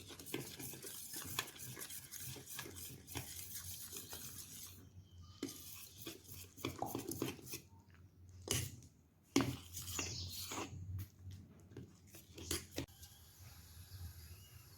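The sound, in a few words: stirring flour batter with water for onion fryums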